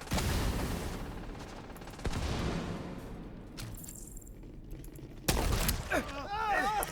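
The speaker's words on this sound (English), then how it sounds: "Let's get some shotgun rounds into this thing." Shotgun blasts ring out in a video game, several loud broadband bursts with the clearest near the start, at about two seconds and past five, each followed by a decaying tail, while a voice talks over the later part.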